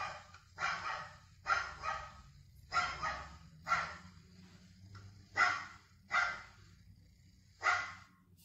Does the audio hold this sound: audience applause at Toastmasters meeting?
no